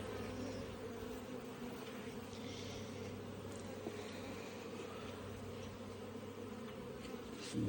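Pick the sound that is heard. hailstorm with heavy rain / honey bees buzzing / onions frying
honey bees buzzing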